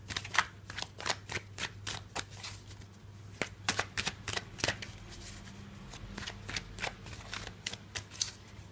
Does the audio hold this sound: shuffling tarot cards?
yes